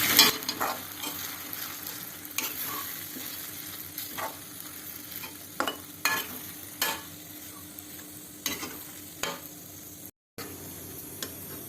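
Rice with turmeric, carrot and raw mango is stirred in a pan: soft frying hiss underneath repeated scraping strokes of a spoon at an irregular, unhurried pace.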